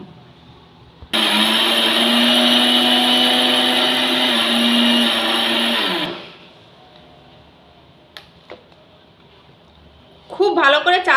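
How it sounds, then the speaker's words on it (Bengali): Mixer grinder pulverizing roasted Gobindobhog rice in a closed jar, a loud, steady whirring roar that starts abruptly, runs for about five seconds and winds down, followed by quiet kitchen clatter and brief talk. "জারের ঢাকা বন্ধ করে খুব ভালো করে গুঁড়ো করে নেব"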